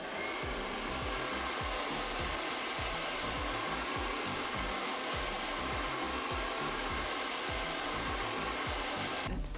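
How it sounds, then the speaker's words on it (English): A hair dryer on its cool setting blows over wig glue with a steady, loud, close whir that runs on without a break and with no talk. "I actually have my blow dry here to help the process."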